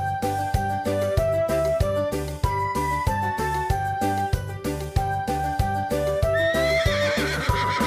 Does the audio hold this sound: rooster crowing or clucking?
no